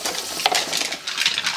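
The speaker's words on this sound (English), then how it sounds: "Now let me rinse the dishes, and I'm gonna use a pretty high flow rate so I can do it really fast." Dishes being rinsed under a high-flow tap and stacked in a sink, a rushing spray of water with light clatter of crockery, close and fairly loud.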